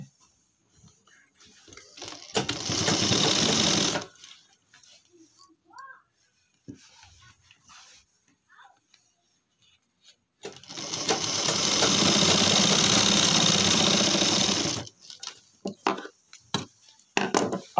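A sewing machine stitches a pant belt in two steady whirring bursts of a few seconds each, separated by quiet handling noises.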